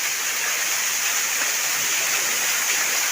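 Kuwari Waterfall at Mangpili rushes in a constant, loud, broadband roar of falling water, steady throughout with no voices over it.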